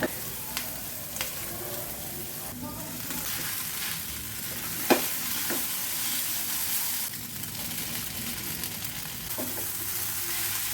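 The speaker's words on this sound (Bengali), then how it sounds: "যাই হোক দেখো চাউটা ভেজে নিচ্ছি আস্তে আস্তে ভেজে" Chow noodles fry slowly in a pan with an even, close hiss of frying, broken by a few sharp utensil taps and one louder knock partway through.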